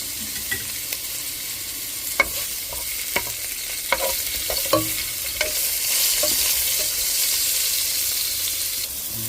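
Garlic and onions fry in a pan for a home-cooked spaghetti sauce, giving a steady sizzle that swells toward the end, broken by sharp scraping clicks from the utensil stirring the pan.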